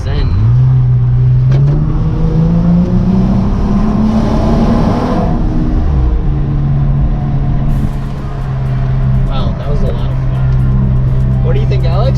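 A 2018 Jeep Wrangler JK with a MagnaFlow exhaust roars loudly up through first gear, its engine note rising steadily before easing off and settling into a deep, steady drone.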